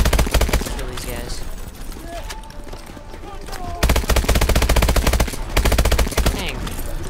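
Rapid machine gun bursts from the player's weapon in Call of Duty Advanced Warfare, loud and close, coming in long sustained volleys with a brief lull in between.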